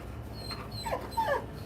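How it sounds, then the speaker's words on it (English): A dog whimpers and cries close by, a couple of short, high, wavering whines rising over a steady low background hum, with no talking. "My dog's in here crying."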